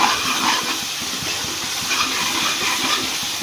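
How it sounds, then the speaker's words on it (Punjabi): Masala spices roast in a hot pan, giving a loud, steady hiss and crackle that carries on evenly with no speech. "ਮਸਾਲੇ ਨੂੰ ਤਾਂ ਚੰਗੀ ਤਰ੍ਹਾਂ ਭੁੰਨ ਲਾਂਗੇ ਜੀ"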